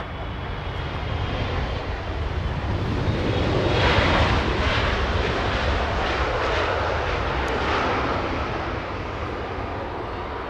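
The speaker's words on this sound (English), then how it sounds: "On 24 left, we have Southwest Airlines getting a move on." Southwest Airlines airliner taking off on runway 24 left at Los Angeles International Airport, a broad continuous jet engine roar that swells to a peak midway and holds steady, heard from a distance with no talk.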